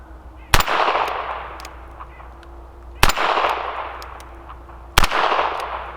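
Three sharp .22LR shots from a Ruger GP100 ten-shot revolver fired at small steel plates on an outdoor range, spaced about two seconds apart, each a loud crack followed by a ringing tail.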